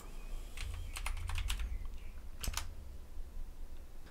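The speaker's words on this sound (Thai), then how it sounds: "แล้วก็พิมพ์คำว่า stream" Fingers type on a computer keyboard in a few quick bursts of crisp clicks, with a short pause and then a final flurry of keystrokes, close and clear over a low background hum.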